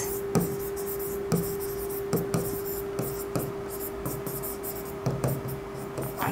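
A pen or pencil writes steadily on paper close up, with repeated taps and scratching strokes and a faint steady hum in the background.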